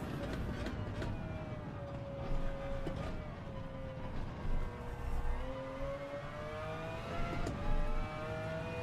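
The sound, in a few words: race car engine accelerating in a racing video game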